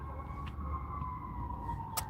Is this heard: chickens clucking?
no